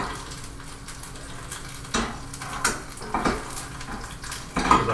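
Egg frying in a pan without oil, a soft sizzle under intermittent scraping and clinking of a utensil against the pan, with a few louder knocks near the end.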